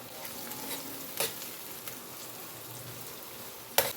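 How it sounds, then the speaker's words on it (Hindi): Chopped onions frying in a pan for a mutton biryani, a steady soft sizzle with faint stirring scrapes and a couple of sharper pops, close and alone without talk. "प्याज को हिलाते हिलाते फ्राई कर लेना।"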